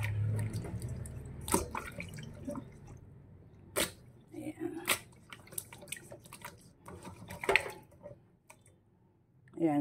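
Water splashes and drips while fish is washed in a sink with white vinegar, milkfish prepared for salting, coming as irregular wet splashes and drips over a low background, with a voice talking at moments.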